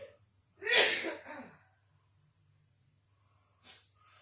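A single person sneezes once, a sharp burst with a breathy intake, followed by a quiet pause and a short sniff or exhale, close and isolated in a quiet kitchen.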